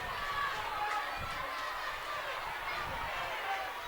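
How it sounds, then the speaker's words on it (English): A rugby crowd at ANZ Stadium applauds during a Nadroga versus Tailevu match, a steady wash of clapping and cheering that holds evenly throughout. "Stefano Samada getting the applause from the crowd"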